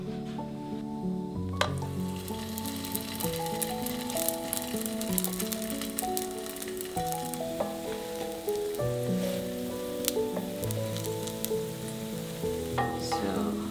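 Cheese roti canai, a Malaysian flatbread, frying in a pan with a continuous close sizzle, joined by light scrapes and clinks of a utensil against the pan.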